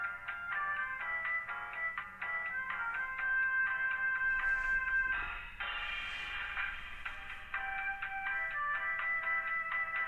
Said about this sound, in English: Phone's making noises down there.